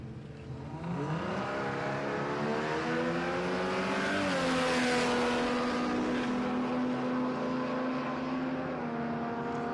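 An E-type Jaguar running at a drag strip at Palmyra Raceway, with loud engine roar rising in pitch through the gears as it accelerates, then holding a steady high drone, with no talking.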